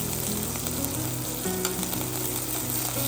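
Beef searing and stir frying in a hot pan, a dense, steady sizzle and crackle heard up close and alone, with slight stirring movement.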